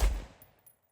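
A single very loud shot from a short-barreled 11.5-inch LMT rifle, a sharp blast at the start that decays over about half a second with a faint echo, no talking.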